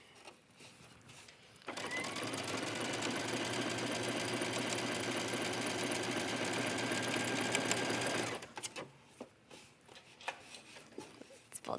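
A sewing machine stitches a lace insert along a fabric edge at a 3.5 stitch length, running as one steady, close, continuous burst of about seven seconds, then stopping as quieter handling sounds follow.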